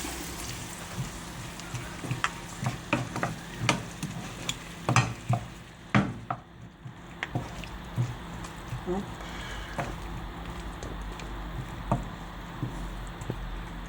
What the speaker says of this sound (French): On va laisser mijoter toujours à feu moyen 5-6 minutes.